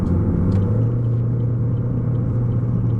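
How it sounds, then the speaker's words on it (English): Steady low cabin rumble of a 2021 Chevy Equinox 1LT with a 1.5L turbo, FWD, cruising on the highway at 58 mph, with a constant drone and no talk. "we're on the highway right now and I am going 58 and the car is quiet"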